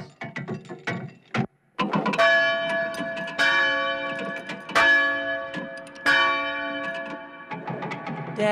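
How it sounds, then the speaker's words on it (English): Church bells ring out in several loud, resonant strikes, each swelling and slowly decaying, overlapping in a clangorous peal. "The bells! The bells!"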